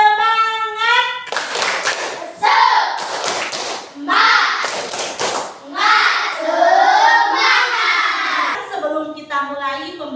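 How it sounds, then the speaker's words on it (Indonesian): A classroom of children does the 'tepuk semangat' spirit clap, chanting together in sing-song unison between bursts of sharp rhythmic claps, led by a teacher's voice at the start. "mari kita tepuk semangat bersama-sama. Tepuk semangat."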